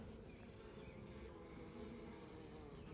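Honeybees buzzing steadily in a hive with a laying queen, a dense continuous hum close by and alone, no voices.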